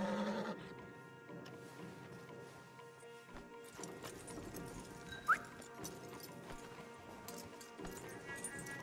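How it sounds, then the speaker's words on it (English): Horses clip-clop along in Red Dead Redemption 2 with hooves thudding unevenly, a whinny rising briefly midway, over a busy outdoor game soundscape. "Javier, you're gonna lead the stallions."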